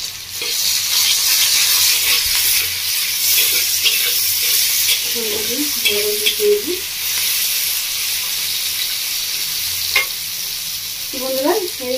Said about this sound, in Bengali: পেঁয়াজটা হালকা করে ভেজে নিয়েছি এবার আমি দিয়ে দেবো আমাদের প্রথমে টমেটো